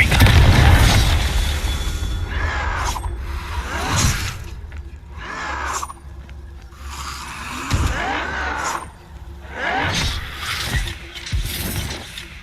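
Fiery Confringo spell blasts from the Hogwarts Legacy video game go off in a repeated series of loud booms and bursts, each with a sweeping whoosh, over a steady low rumble of game ambience.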